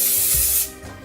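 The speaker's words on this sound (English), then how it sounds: "Then give that a little spray" One short, close hiss of olive oil spray onto a pizza base, a loud burst lasting just over half a second before it cuts off and fades.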